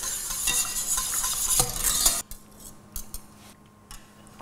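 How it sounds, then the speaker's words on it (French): A spoon or whisk stirs a roux in a hot pan as broth is added for a vol-au-vent sauce. Brisk scraping and loud sizzling fill the first two seconds, then fade to quieter intermittent stirring clinks. "Et maintenant, on va venir mouiller avec le bouillon."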